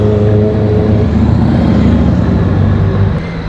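Road traffic during a motorcycle ride: a loud, constant engine drone and roadway rumble with low steady tones, easing slightly near the end, heard up close with no talking.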